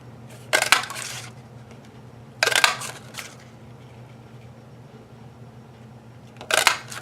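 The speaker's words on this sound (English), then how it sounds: "So that is 1 1/4 inch punch." A 1 1/4 inch paper punch clunks through cardstock three times, each a short crunchy mechanical snap with a light rattle, spaced irregularly and close up over a low room hum, with no talking.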